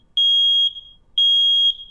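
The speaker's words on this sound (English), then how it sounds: "as you heard the beep, that indicates that the smoke alarm is in good working order" Two loud, piercing electronic smoke alarm test beeps, each about half a second long and evenly spaced, sounding alone with no voices.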